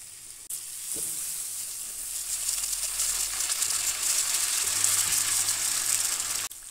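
Onions frying in a pan for achari dal chana give a bright, steady sizzle that swells gradually over several seconds, with one early knock of a utensil and no talking.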